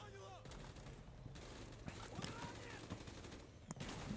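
Gunfire in the video game Call of Duty: Black Ops comes as scattered rapid shots and short bursts at low volume, mixed in with excited voices talking throughout.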